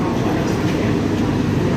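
Ijen Express passenger train rumbling past alongside, a steady dense roar of wheels and carriages close by with no clear breaks.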